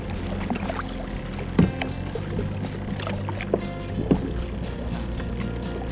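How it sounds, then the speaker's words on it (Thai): Oars paddle a small rowboat on open water near a bridge pier, giving a few soft, separate splashes and knocks over steady wind and water noise, with no talk. "เรือมันพายง่ายนะครับพายง่ายมาก"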